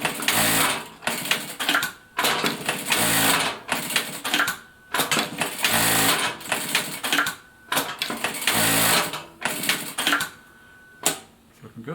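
Siruba DL7200 industrial needle feed sewing machine running in repeated short bursts of rapid stitching, each a dense mechanical clatter separated by brief pauses and clicks.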